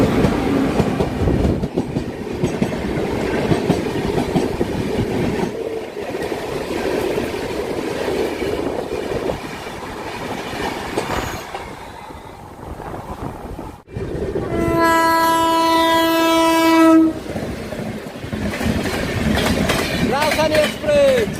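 The Sealdah–New Delhi Rajdhani Express rushes past the passenger's train, heard from a general-class coach: loud rolling clatter, then a long, sustained blast of the horn close by as it passes.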